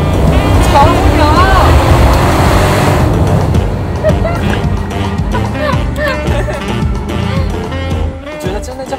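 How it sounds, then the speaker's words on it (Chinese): Supercharged Mercedes-Benz V8 car engine of over 500 horsepower, a loud, sustained deep roar that rises and then settles into a lower drone as the car drives, with a person talking over it. "这台车呢有500多匹马力，700多牛米，它是一个机械增压加 V8"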